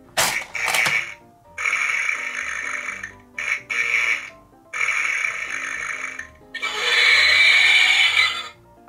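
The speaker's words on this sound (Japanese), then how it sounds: "この恐竜もなんかちょっと嫌なおならのような音がしてた。" A large toy T-Rex dinosaur's egg-hatching sound effect gives off a rough, farting electronic noise in several loud bursts separated by short gaps, close and alone.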